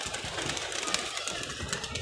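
Pigeons, including a large colourful one, coo amid constant chirping and fluttering in a loft, a dense near chorus with no talk.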